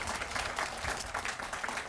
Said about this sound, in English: Let's give them a big round of applause for your support and your work.